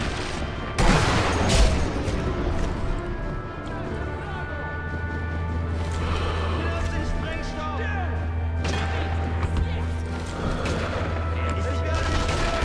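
Sustained gunfire crackles through a Sniper Elite V2 battle between German and Russian forces, with rapid rifle and machine-gun bursts, sharp nearby shots and a low rumbling background that carries on steadily throughout.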